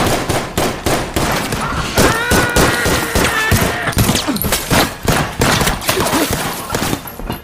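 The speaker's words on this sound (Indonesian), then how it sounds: "Mereka memilih melawan para perampok hingga terjadilah baku tembak." Rapid gunfire fills a film shootout between robbers and defenders at a minimarket, with dense bursts of loud shots and cracks following one another almost without pause, close and intense throughout.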